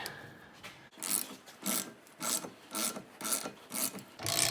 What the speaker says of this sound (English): we're just going to take our ratchet and start tightening this up and see how it goes